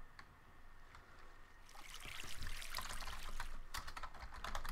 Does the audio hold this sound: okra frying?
no